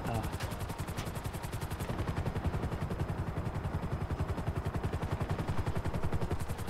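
Rapid video game gunfire during a helicopter shootout, a steady fast rattle of shots with the rhythmic thump of rotor blades beneath, moderately loud and unbroken.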